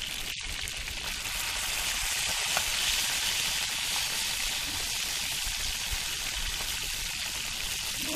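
Fish frying in a pan, a steady, dense sizzle and crackle of hot oil running continuously at close range, with occasional small pops and faint stirring taps and no voices.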